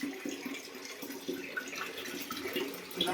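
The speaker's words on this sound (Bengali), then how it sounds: "ভালো করে ধুয়ে নিই সবজি টবজি গুলো, তারপরে রান্না বসাবো।" Vegetables rinsed under a running kitchen tap, a steady close hiss of splashing water with small irregular surges, with no talking.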